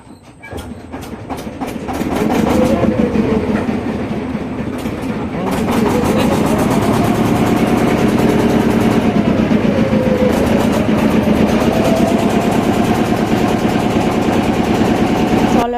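A local Vande Bharat train starts moving in India, motors whining in rising and falling tones over a loud, steady rumble and rhythmic wheel clatter, heard from on board.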